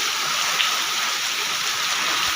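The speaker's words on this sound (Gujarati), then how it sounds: "જો અત્યારે અમારે બહુ જ વરસાદ આવ્યો" Heavy monsoon rain pours down steadily outdoors, a dense, unbroken hiss of falling water with no pauses and no voices.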